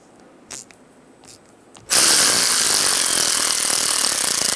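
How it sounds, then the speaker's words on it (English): An impact wrench with a 14mm socket zips loose the top strut nuts on a 2014-2019 Toyota Highlander. A few quiet clicks come first, then a loud, sustained, close rattling burst that runs to the end. "Using a 14mm socket,"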